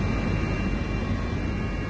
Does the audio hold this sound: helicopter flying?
yes